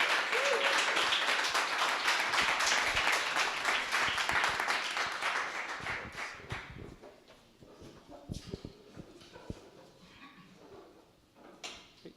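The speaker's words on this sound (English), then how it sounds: "Can I get a big round of applause for him?" Audience at a startup speaker event claps in a dense burst that gradually thins over several seconds, leaving scattered claps and quiet room noise before a person begins talking.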